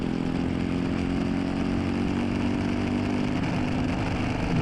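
LO206 racing kart engine held at the rev limiter during a kart race, a loud continuous close buzzing drone with a steady pitch and no speech.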